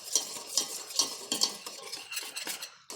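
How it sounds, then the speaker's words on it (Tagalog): A utensil stirs egg into a yogurt mixture in a bowl, giving repeated close scraping and clinking strokes in an even rhythm, with no voices. "Tapos haluin niyo lang siya maigi."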